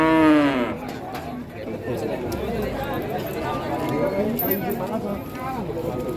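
Simmental cattle at a crowded rural cattle market in Wonogiri, one loud moo opening the scene, then shuffling hooves and general livestock noise beneath steady talking.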